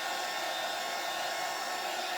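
A hair dryer blows steadily over a craft kit backer board, a constant close whooshing roar with no pauses and no voices.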